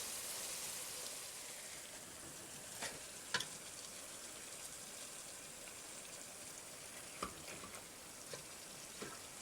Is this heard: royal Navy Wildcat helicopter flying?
no